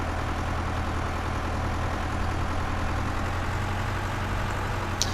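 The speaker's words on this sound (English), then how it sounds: "Spunky little tractor." A tractor engine idles steadily in Farming Simulator 15, a low, even rumble holding at constant loudness throughout, with no talk over it.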